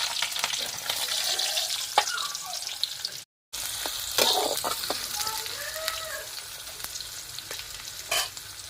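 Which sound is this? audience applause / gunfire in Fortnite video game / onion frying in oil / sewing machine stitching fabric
onion frying in oil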